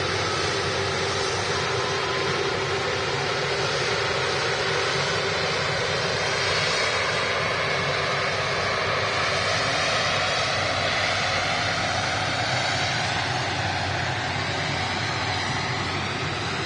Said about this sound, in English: There is the Turkish Airlines A330.